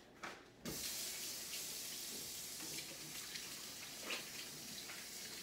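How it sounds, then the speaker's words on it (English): A kitchen tap runs steadily into a sink while hands are washed before cooking, with a faint click at the start and a continuous close hiss of water that shifts slightly as the hands move under the stream. "so I gotta wash my hands."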